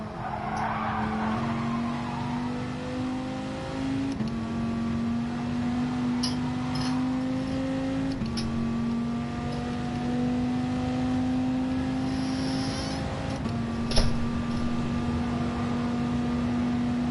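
A race car is held in third gear during practice laps, its engine a loud, steady onboard drone whose pitch climbs and drops in stages, with a brief sharp knock near the end.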